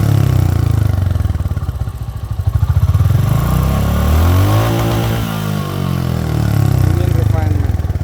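A Royal Enfield Classic 350 BS6 single-cylinder motorcycle engine runs loud and close with a steady thumping beat, its pitch rising and falling through a couple of revs; someone talks over it.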